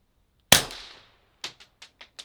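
A paintball gun fires one sharp, loud shot that rings out and fades over about half a second, followed by several quieter, quick clicks and pops.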